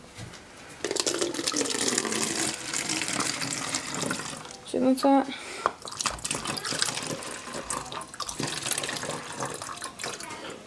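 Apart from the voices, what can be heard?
water poured into a bottle through a funnel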